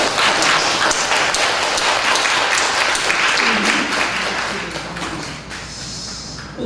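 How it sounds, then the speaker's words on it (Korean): A church congregation gives loud, dense applause of encouragement during a worship service, which holds steady and then thins out and fades toward the end. "격려의 박수."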